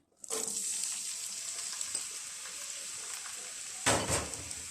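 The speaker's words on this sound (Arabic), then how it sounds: "ضفت الزيت وراح اضيف البصل" Onions hit hot oil in a pan for mung bean soup, a bright steady sizzle starting abruptly and holding loud and close, with a stirring scrape near the end.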